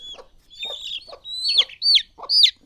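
A hen and her chick, freed after treatment for fowl pox on a farm, cluck and cheep in a quick series of about six short calls, close and clear with no talk.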